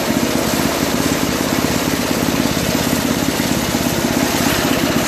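Toro snow blower with a 5 HP Tecumseh engine, a 21-inch dual-stage machine, running at low throttle: a loud, steady, close putter with an even rapid firing rhythm throughout and no talk.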